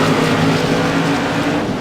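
Modified race cars at Martinsville Speedway make a loud, dense engine roar that fills the whole moment continuously, a pack of cars heading into turn three.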